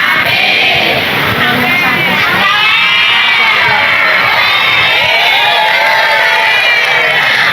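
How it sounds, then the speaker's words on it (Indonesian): A crowd at an Indonesian religious study gathering cheers and shouts with children's voices prominent, a loud, steady, continuous wash of noise filling the whole stretch. "Tepuk tangan dhisik."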